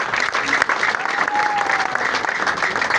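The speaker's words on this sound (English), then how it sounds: "Please clap for yourselves." Applause from a crowd at a political party manifesto event at the NUP Kavule headquarters, a steady dense wash of clapping that fills the whole stretch at even loudness.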